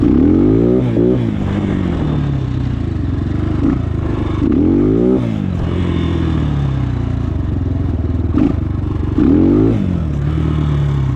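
A Trailmaster TM33 Chinese dirt bike engine revs and drops in repeated rising surges as gears are shifted, loud and close with wind and rattle over a steady mid engine drone.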